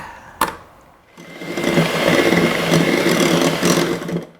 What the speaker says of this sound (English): So we're going to combine those for a second with your hand beaters.